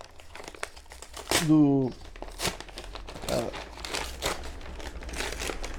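A paper envelope is torn open and crinkled in a sharp burst of tearing and crumpling, followed by softer rustling as the paper is handled, while a person talks alongside.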